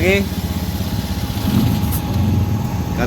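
Honda Vario 110 scooter engine running with a steady mid-pitched idle drone, loud and close, with a brief voice near the start.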